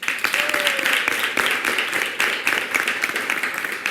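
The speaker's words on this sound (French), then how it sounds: "on applaudit." Crowd clapping at a televised Christmas family event, continuous loud applause from many hands with uneven rhythm, close and sustained from start to finish.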